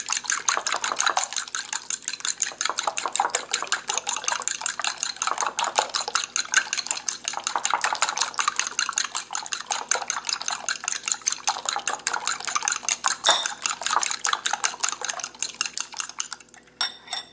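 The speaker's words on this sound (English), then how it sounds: "take a fork, you can certainly use a whisk if you have one, and just mix it up until it's nice and uniform" Eggs beaten with a fork in a bowl, a fast steady clatter of metal tapping against the bowl with a wet sloshing edge, close up and continuous, with no talking.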